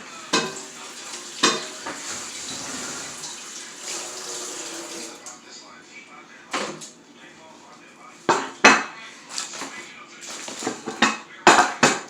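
A plate and knife are rinsed under a running tap with water splashing, and dishes clink and clatter in sharp bursts. Someone speaks over the rinsing.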